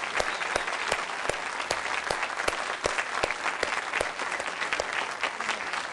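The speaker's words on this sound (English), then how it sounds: "big round of applause." Steady applause from a crowd, dense clapping that continues evenly throughout.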